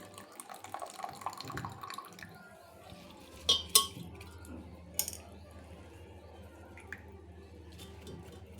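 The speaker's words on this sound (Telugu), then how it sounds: "చక్కగా ఇలా వాటర్లో వేసి దీన్ని కూడా కడుక్కొని పప్పులో వేసుకోవాలండి" Tamarind leaves are washed by hand in water: faint splashing and squishy handling, with a few louder clattering knocks of a vessel against a quiet background.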